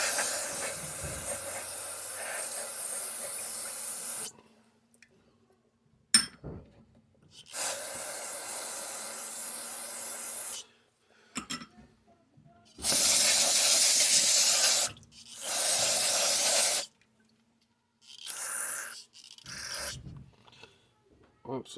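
A Craftsman pressure washer that was left outside full of water sprays parts clean in loud hissing bursts. The bursts start and stop repeatedly with quiet gaps between them, and brief talk is heard in the pauses.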